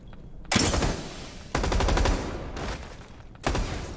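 Gunfire in Rainbow Six Siege: three loud, sharp bursts of rapid shots, each one cutting in abruptly and decaying, spaced about a second apart with brief lulls between.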